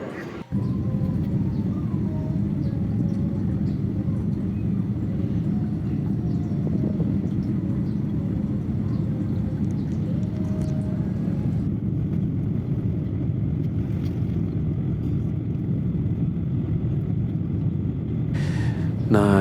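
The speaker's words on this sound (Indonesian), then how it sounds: "Nah ini pesawat sudah mulai terbang bosku ya" Steady, loud cabin drone of a passenger jet climbing after takeoff on a flight from Saudi Arabia to Indonesia, a constant low roar with occasional faint cabin sounds.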